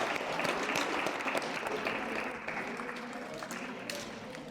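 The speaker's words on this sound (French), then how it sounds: "On peut les applaudir" Crowd in a gymnasium applauding at the end of a handball match between U.S. Mortagnaise and H.B Domfrontais, a broad sustained wash of clapping that fades slightly toward the end, with faint voices mixed in.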